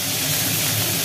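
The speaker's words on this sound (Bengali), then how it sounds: "মাথাটা কালো জিরে আর শুকনো লঙ্কা তেলের মধ্যে দিয়ে দিয়েছে, দিয়ে মাছের মাথাটাকে ভাজা হচ্ছে" A fish head sizzles in hot oil with black cumin seeds and dried red chillies, a dense, loud and constant frying hiss heard close up.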